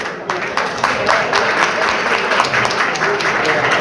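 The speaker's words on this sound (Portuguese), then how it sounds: "vamos aplaudir" An audience at a Rotary Club of Nova Iguaçu podcast event applauds, loud and close, with brisk, dense clapping throughout and some voices mixed in.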